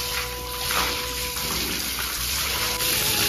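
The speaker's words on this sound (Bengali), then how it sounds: "জল না দিলে না প্লাস্টার সব ফুলে ফুলে পড়ে যাবে, তার জন্য কিন্তু এখন দেয়ালগুলো জলটা দিয়ে দিই" Water gushing and splashing steadily onto freshly plastered walls of a house, a continuous close wash of spray with no pauses.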